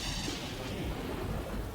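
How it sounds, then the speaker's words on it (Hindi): Heavy rain pours steadily with low rumbling thunder rolling underneath, a dense continuous downpour heard close and loud throughout, with no talking. "देखो कैसी भयंकर बरसात हो रही है। हाँ? बिजली भी कड़क रही है"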